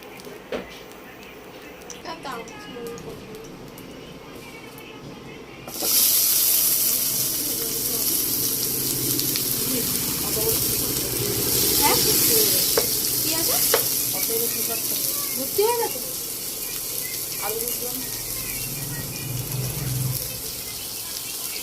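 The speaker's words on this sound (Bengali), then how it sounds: "কড়াইকে ফোড়নও দেওয়া হয়ে গেছে" Spices crackle and sizzle in hot oil in a wok for mango chutney, a loud steady frying hiss that starts abruptly, with a voice talking faintly underneath.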